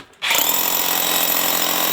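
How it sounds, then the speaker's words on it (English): A power drill bores into a concrete deck footing, starting abruptly after a brief silence and running loud and steady, with a harsh grinding whine. "So take a drill bit and drill a hole and see."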